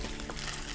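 Chopped onion fries in a pan, a brief steady close sizzle without talk.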